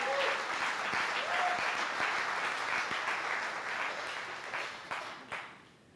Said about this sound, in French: Est-ce qu'on peut applaudir Jésus pour sa luminosité et pour sa gloire?